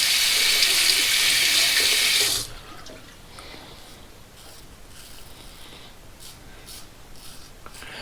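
Tap water runs steadily from a bathroom faucet during a wet shave with a vintage Gillette long comb safety razor, a loud continuous rush for about two seconds before being shut off, leaving quiet room tone with faint rubbing.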